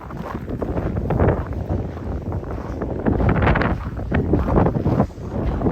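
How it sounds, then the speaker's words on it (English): Wind gusts across an outdoor mall walkway in Regina during extreme December cold, a loud, rough rumble buffeting the microphone continuously with swelling surges. "You do get wind on the mall here, for sure."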